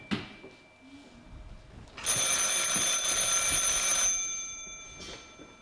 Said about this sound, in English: Shouldn't somebody be answering that phone?